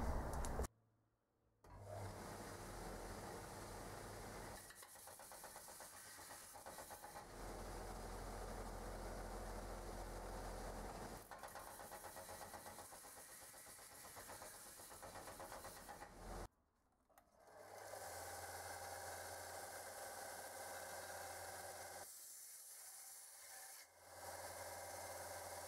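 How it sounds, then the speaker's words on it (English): A power sander works the outside edges of a wooden guitar headstock, a loud steady whirring rasp that runs almost continuously, broken by two short pauses where the machine stops. "A bit more time on the sander for the outside edges"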